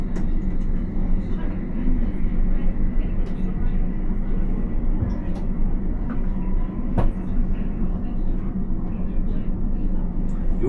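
London Underground Piccadilly Line train running at night, a steady loud rumble of wheels and motors heard from the rear car, with occasional clicks and knocks over the continuous roar.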